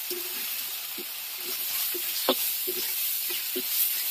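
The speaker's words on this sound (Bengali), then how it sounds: "ভালোভাবে নেড়ে মিক্স করে এই যে গোছের মশলার মতো হয়ে গেল" Beef masala with chili powder fries in a pan, a soft continuous sizzle punctuated by regular spoon taps and scrapes as the paste is stirred, with one sharper knock midway.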